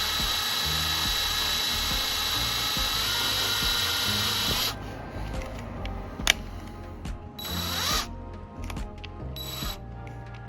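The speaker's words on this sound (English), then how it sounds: "Did I just drill it backwards?" Steady high-pitched drill whine from boring a small safety-wire hole in a part on a Triumph Daytona 675R, running continuously for about five seconds before stopping, followed by quieter intermittent handling clicks and taps.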